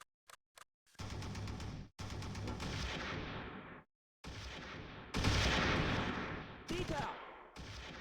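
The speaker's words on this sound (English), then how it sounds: "Mow them down with machine guns." Machine gun fire from the World War II strategy game Close Combat III: The Russian Front comes in several loud, sustained bursts separated by brief pauses, with a few sharp single shots at the start.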